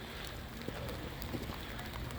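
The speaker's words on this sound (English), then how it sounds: "Oh, the rain has picked up." Icy rain falls in a steady dense patter on surfaces outdoors, a continuous hiss with a few sharper drop ticks, moderately loud and even throughout.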